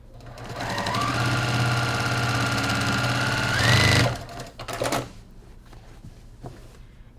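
A sewing machine stitches a short extra bit of seam on a small heart-shaped quilt block, a close, loud, steady whir for about four seconds that stops, followed by a few light clicks and handling sounds.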